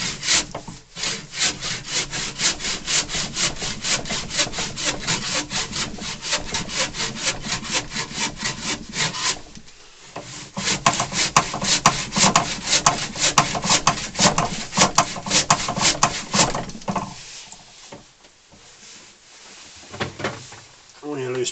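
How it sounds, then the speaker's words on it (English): A hand wood saw rasps back and forth through wood on a lathe with the spindle locked, in fast, steady strokes for a long stretch. A brief pause interrupts the sawing before it resumes and then slows and fades. "I've just got a wood saw."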